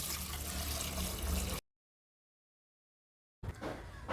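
Rice and toor dal being washed in water: a steady sloshing, gurgling wash, then an abrupt break into silence before the swishing resumes, close and moderately loud.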